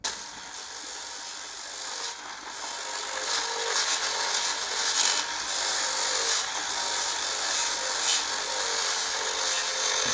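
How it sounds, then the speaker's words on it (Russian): Hand file rasping steadily on a metal disc adapter for a bench grinder, a continuous close scraping with repeated strokes and brief pauses, no talk. "Еще пилить миллиметр."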